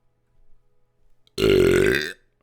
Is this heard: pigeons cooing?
no